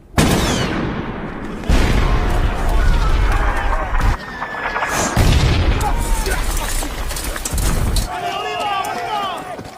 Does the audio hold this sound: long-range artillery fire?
yes